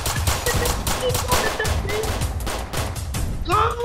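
Rapid bursts of video game gunfire crackle in quick repeated volleys, loud and close, with a few shouted voices and game sounds mixed in.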